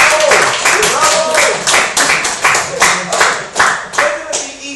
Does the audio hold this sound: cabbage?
no